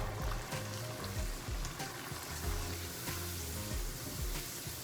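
Masala of browned onion and dry spices frying in a pan for gola kabab, a steady dense sizzle with scraping stir strokes throughout, loud and close with no talking.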